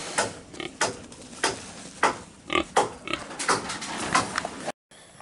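A farm pig grunts repeatedly at close range, a run of short rough snorts and oinks in an irregular rhythm, then a brief silence near the end.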